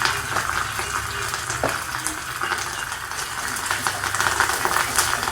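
Cumin seeds and curry leaves crackle in hot oil for a coconut chutney tempering, a dense, continuous close sizzle with faint pops, steady throughout, no voices.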